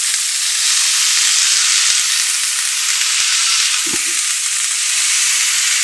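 Beef patty with onions fries loudly in a cast iron skillet, a strong steady sizzle and hiss close by, broken by a few spatula taps and presses as the onions are squished into the meat.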